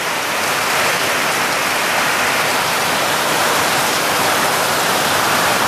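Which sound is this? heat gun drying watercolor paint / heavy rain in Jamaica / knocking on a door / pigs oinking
heavy rain in Jamaica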